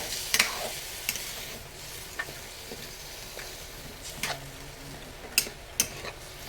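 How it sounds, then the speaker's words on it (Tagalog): Chicken stock sizzles in a hot pan while a utensil scrapes and stirs the browned, stuck bits, with a soft steady hiss broken by scattered clicks and metallic taps. "meron tayo ditong chicken stock. Yung ating isasabaw. Kunti lang muna. Atin munang aalsin yung mga nakadikit sa kawali"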